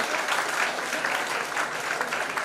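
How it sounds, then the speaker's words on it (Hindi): A crowd applauds steadily for youth-wing volunteers receiving service medals, a dense, even wash of clapping that holds at a moderate level throughout with no speech on top. "एक एक भाई को जोरदार ताली से आप लोग स्वागत करते रहेंगे"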